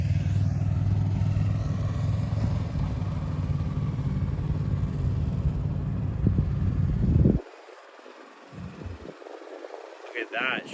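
A motorcycle ridden by a beginner rider, its engine droning steadily and nearby before suddenly dropping away, leaving faint rumbles and a voice at the end.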